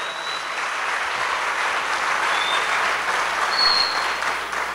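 A church congregation claps together in sustained, dense applause that holds at an even level throughout, with no voices standing out.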